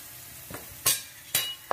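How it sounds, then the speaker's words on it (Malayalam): Mushrooms and flour frying in ghee for cream of mushroom soup, a low sizzle broken by three sharp, close stirring scrapes at a steady pace. "മൈദ ചേർത്തിട്ട് നന്നായിട്ടൊന്ന് ഫ്രൈ ചെയ്തെടുക്കണം."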